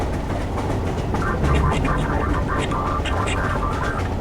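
Train ride in the video game Entropy Zero: a steady rumbling rail clatter with rhythmic metallic knocks and a faint tonal hum, continuous and fairly loud.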